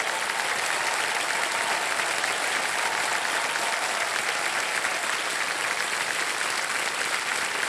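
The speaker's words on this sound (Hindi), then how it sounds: "ताली बजती रहे इनके लिए" A studio audience on a TV quiz show breaks into steady applause, a dense, even wash of clapping that stays loud and unbroken throughout, with no voices over it.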